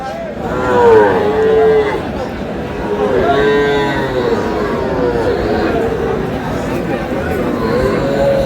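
Several cattle, small bulls and heifer calves at a Jhenaidah market, moo loudly, their calls overlapping amid a murmuring crowd and nearby voices.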